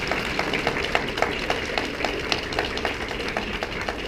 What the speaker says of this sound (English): I'd like you guys to stand up right now and applaud them for being here for you.